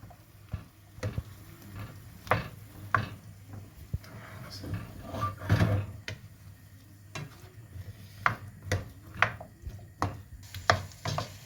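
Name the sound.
stirring vegetable stir fry in a pan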